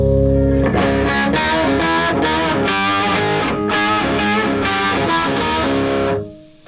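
An electric guitar played through a distortion pedal in a pedalboard chain rings out in thick, saturated chords struck in a steady rhythm, loud and close, before fading out at the end.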